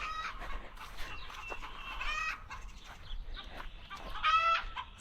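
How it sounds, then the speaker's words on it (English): Backyard hens squawk and cluck in short, rowdy bursts over a quiet farmyard background, several birds calling close by in uneven succession. "Some squawking hens today."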